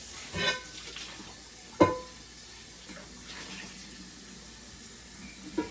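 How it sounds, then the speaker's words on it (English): Water runs into a cooking pot for homemade chicken soup, a low, continuous wash broken by a couple of close metallic clunks from the pot. "I'm going to probably add about maybe another 6 to 8 cups of water to this pot."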